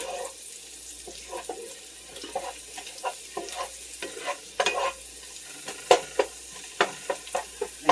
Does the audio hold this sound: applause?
no